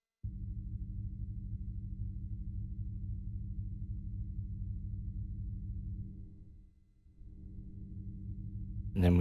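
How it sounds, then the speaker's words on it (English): A SetonixSynth modular synth passes a low, steady electronic hum through a low-pass filter, leaving the upper logic noise muted. The tone holds evenly, dips briefly near the end, then swells before a short burst at the close. "what if we filtered this through a low-pass filter now to get a little bit more of that hum and less of that upper logic noise going through?"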